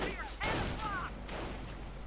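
Skirmish between Grenadiers and Riflemen armed with BARs in a video game, with a couple of sharp gunfire bursts mixed with crackly game effects and ringing tones, moderately quiet overall.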